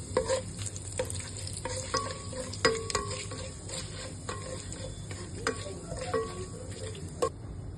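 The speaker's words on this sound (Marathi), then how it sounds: "त्याच्यात तेल गरम झालंय। आता त्यात खडे मसाले टाकायचे" Whole spices crackle in hot oil and ghee for a chicken curry, with a steady low sizzle broken by repeated metallic clicks of a spoon against the pot.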